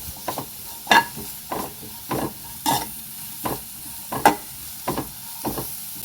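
Sliced onions fry in a pan for chicken sukka, with a steady low sizzle broken by repeated scraping stirs, about a dozen close, loud strokes in an uneven rhythm.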